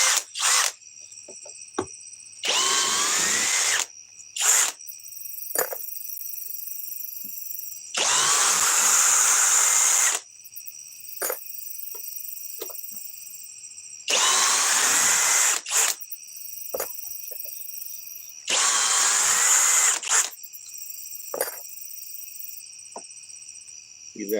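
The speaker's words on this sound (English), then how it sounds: "let's try the drill" A power drill runs in short bursts at several speeds, a high whining buzz switching on and off every few seconds with quiet gaps and small clicks between, close and loud.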